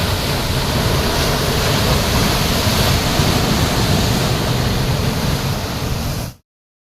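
Sea waves roll in at the Mahanadi river mouth near Paradip, a loud, steady broadband roar of surf and wind with no break until it cuts off abruptly near the end.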